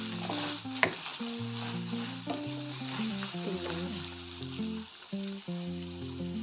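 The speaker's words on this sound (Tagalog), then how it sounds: "Ngayon ay hahaluin po muna natin para hindi masunog itong ating chorizo." Chorizo de Cebu frying and sizzling in a pan while being stirred, with steady hiss, sharp clinks and scrapes of a utensil, and a tonal musical layer running underneath throughout.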